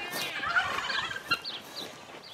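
Turkeys gobble in rapid, warbling bursts on a small farm kept with pigs, several calls overlapping close by against a faint outdoor background.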